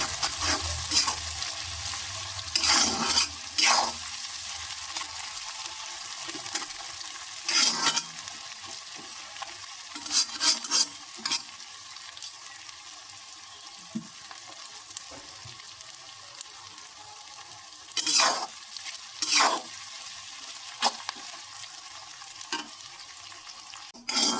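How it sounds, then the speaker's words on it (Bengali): Onions frying in a wok for mutton curry, a low steady sizzle punctuated by bursts of loud scraping and stirring with a utensil at irregular intervals, with no voices. "পেঁয়াজগুলো একটু ভাজা ভাজা করে নেবো একটু লাল লাল করে"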